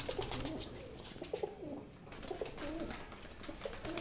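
Several pigeons coo softly in repeated low rolling calls, fairly close, over a hissy outdoor background of a loft in Gujranwala with no talking.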